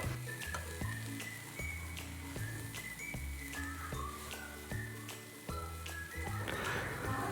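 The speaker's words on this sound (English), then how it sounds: "While we're stirring" Keerai thoran greens stirred in a frying pan, with a low background sizzle and repeated clinks of a utensil against the pan, faint but steady, along with some tonal background music.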